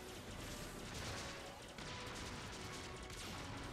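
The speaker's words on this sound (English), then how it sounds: "I'm shooting so much shit right now." Continuous rapid blaster fire and explosions from Star Fox Zero come through as a dense, steady wash of noise throughout, faint overall with no clear separate shots.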